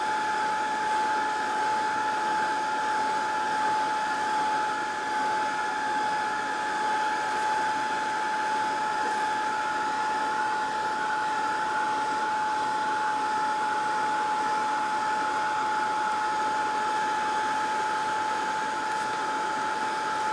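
A heat gun blows a steady stream of hot air onto shrink plastic in a craft setting, making a constant close whirring hiss with a fixed tonal whine and no breaks.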